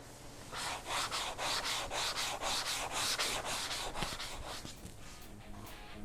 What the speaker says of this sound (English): very light 600 grit sanding to get this ready for the base and clear